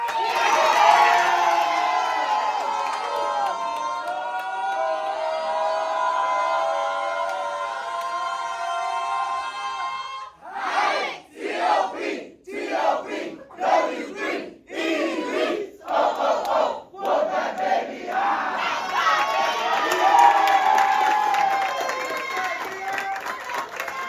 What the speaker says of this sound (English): I need everybody to get up big. Big. Bigger.